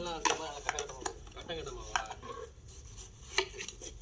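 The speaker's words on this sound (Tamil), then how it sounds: "बहुत बेहतरीन कटाई कर रहे हैं।" Sharp knife chops strike a board in an uneven rhythm, several quick cuts, with voices talking over them.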